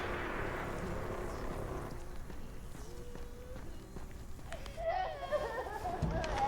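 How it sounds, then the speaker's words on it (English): A crying child's wail, the Screamer in the video game Dying Light, rises late as a wavering high cry over a dense, murky game ambience with rustling and low rumble. "Is that a child crying?"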